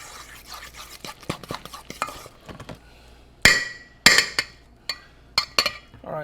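A spoon stirs a chorizo and cream cheese stuffing mixture in a bowl, soft repeated scraping strokes followed by several sharp louder clinks against the container.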